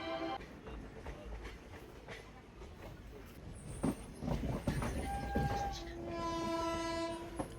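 The Sealdah–Jangipur Express rumbles and clatters along the tracks as it pulls away from Bandel Junction, India, with a long horn blast sounding near the end.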